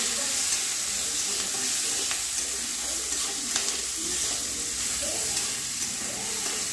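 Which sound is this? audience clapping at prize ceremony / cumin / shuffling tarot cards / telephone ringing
cumin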